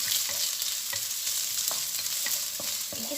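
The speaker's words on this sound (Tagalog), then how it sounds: "gisa natin yung onions" Onions sautéing in oil in a pan hiss steadily up close while a utensil stirs and scrapes in quick, irregular taps throughout.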